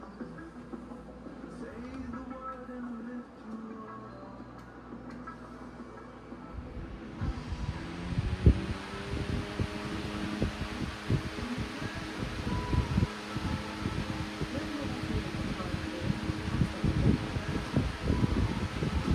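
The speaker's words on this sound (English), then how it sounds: "So now we're going to go ahead and run it." A 12 inch retro Beyond Breeze desk fan starts up after a quiet opening, settling into a steady broadband whoosh of moving air with a faint motor hum and light rattling that carries on to the end.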